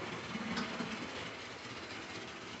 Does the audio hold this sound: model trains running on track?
yes